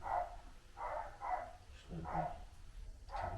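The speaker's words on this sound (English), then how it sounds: "I didn't know there's a dog over there." A dog barks repeatedly somewhere in the distance, five muffled barks at an uneven pace over a quiet room background.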